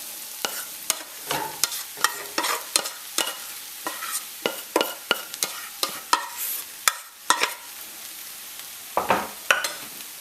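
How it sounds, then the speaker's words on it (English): Crushed pounded yam added to a hot pot and mixed, heard as a series of sharp close scraping and knocking strokes of a spoon against the pot over a faint low hiss, with no talk. "start adding the crushed or the pounded yam into the pot."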